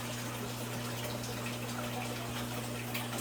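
An aquarium canister filter pushes water fast through its hoses after being primed by hand, giving a steady close rushing gush with a constant low motor hum underneath and no talking.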